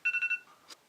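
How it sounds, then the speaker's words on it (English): A phone alarm going off: four quick, loud electronic beeps in a tight even rhythm, followed by a short soft click, with no voices. "And that's my alarm."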